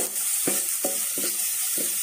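Onions fry in oil for a home-style beef bhuna, a bright continuous sizzle broken by four evenly spaced spatula scrapes, close and fairly loud.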